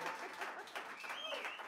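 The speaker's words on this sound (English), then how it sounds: "one last round of applause for" A crowd at an Open Music Sessions show applauds the band, with a brief burst of clapping, a few chuckles and voices mixed in.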